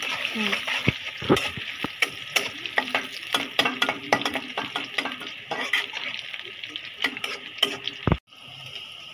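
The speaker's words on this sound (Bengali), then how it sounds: "এই তো এখানে আম্মু বাগার দেওয়ার জন্য পেঁয়াজ আর রসুন দিয়ে দিল।" Onion sizzles in hot oil for tempering, a steady frying hiss with repeated clinks and scrapes of a stirring utensil against the pan, and a voice talking over it.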